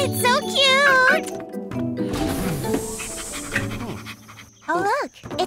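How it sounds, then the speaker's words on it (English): A cartoon puppy panting in quick bursts beside little trains, mixed with bright musical jingles and squeaky synthetic tones, while voices talk over it. "Oh, look, it's a puppy."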